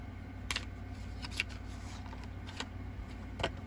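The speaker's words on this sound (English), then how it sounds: "Let's shuffle before we get more channel messages." Soft riffling bursts of cards being shuffled, a few brief crisp flurries over a steady low background hum, fairly close.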